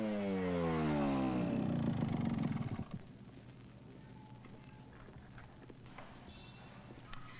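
A motorcycle ridden fast sweeps past, its engine loud with a rising, swooping pitch for nearly three seconds before cutting off abruptly, leaving faint background noise.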